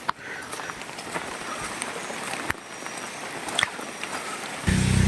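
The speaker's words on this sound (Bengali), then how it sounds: "ট্রলারের শব্দ শোনা যাচ্ছে" A trawler boat engine running on the Sangu river, heard from a hillside trekking trail as a distant, steady rumbling drone beneath outdoor noise, with a louder shift near the end.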